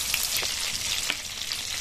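Whole dried red chili and nigella seeds spit and sizzle in hot oil, a steady close frying crackle with a couple of sharper pops, no voices.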